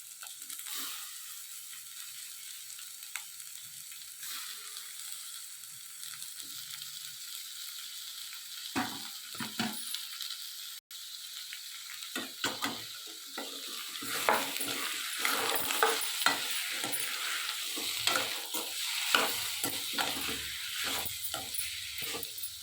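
Steady frying sizzle that turns louder and busier partway through as cut chicken is added, with scraping and stirring clatter in a pan, close up.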